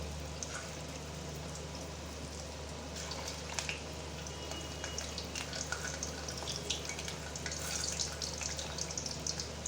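Chitol fish koftas fry in hot oil, giving a steady, even sizzle with scattered small crackles and pops throughout, fairly quiet and with no talking.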